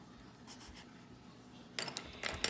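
A pencil scratches across paper while drawing a number line, faint short strokes early on, then a busier burst of quick scratching strokes near the end, quiet and close with no talking.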